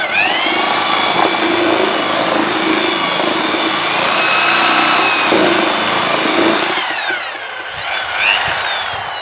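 A mixer machine churns wood filler paste in a carpentry workshop, a loud continuous motor whine with a steady tonal drone that dips briefly and recovers near the end, close and alone without talk.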